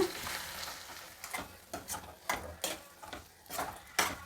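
Mung dal and soaked poha mixture being stirred in a pan, with a series of soft scraping, shuffling strokes at an irregular rhythm, close and fairly quiet, with no talking.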